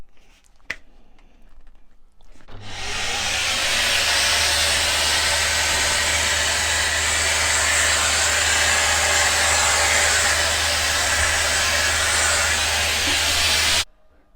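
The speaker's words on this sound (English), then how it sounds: "I'm just going to be using the vacuum cleaner on it and seeing how well that vacuum attachment actually works" A cordless 12V multi-tool with a vacuum attachment switches on after a brief click, then runs as a loud, steady broadband whoosh with a low motor hum for about eleven seconds before cutting off abruptly.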